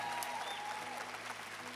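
Brief applause from a church congregation, a soft wash of clapping with a few faint whistles and voices mixed in.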